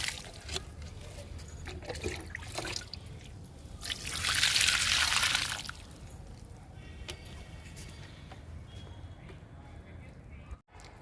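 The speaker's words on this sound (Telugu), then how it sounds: "గోంగూర మొక్కలకి వాటర్ ఇస్తున్నాను" Water pouring onto potted gongura plants, a faint trickle that swells into a louder, brief rushing splash midway, then fades back to quiet background.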